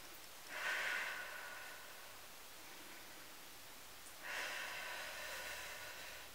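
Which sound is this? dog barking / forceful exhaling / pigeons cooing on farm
forceful exhaling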